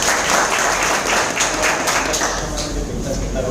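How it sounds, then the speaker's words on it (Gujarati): An audience at a gathering in a hotel hall bursts into loud, sustained applause, a dense wash of clapping that stays steady throughout, with some voices underneath. "સૌથી પહેલા તો બેન શિલ્પાબેન માટે એક જોરદાર તાળી."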